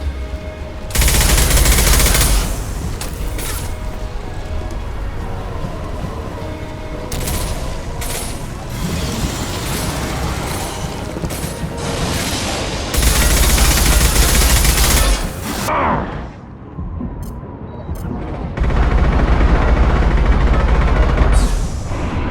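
Sustained video-game gunfire from Mass Effect 2, dense rapid bursts of weapon fire and impacts that run loud for most of the stretch, briefly thinning to a quieter gap near the end before the barrage returns.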